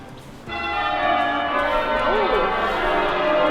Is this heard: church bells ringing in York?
yes